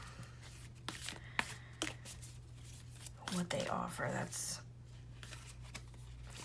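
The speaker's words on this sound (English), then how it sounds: "These are not very easy to shuffle" Tarot cards being shuffled by hand, stiff and hard to shuffle, giving close riffling and slapping bursts with a longer flurry midway, under a person talking.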